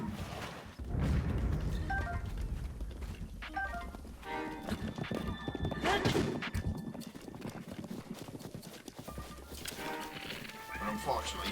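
Horses in the Breath of the Wild video game, with clip-clopping hooves and an occasional whinny mixed into busy game sounds and music, under a voice talking for most of the stretch.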